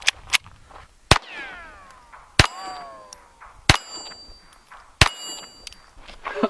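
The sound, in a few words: 22 LR round from Walther P22 hitting stainless steel plate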